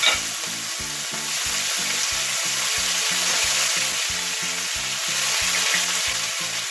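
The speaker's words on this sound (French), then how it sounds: "je prends ça et je fais saisir" Stuffed pork loin sears in a hot pan with a loud, steady sizzle and crackle, while a rhythmic low thumping pulses regularly underneath, no talking.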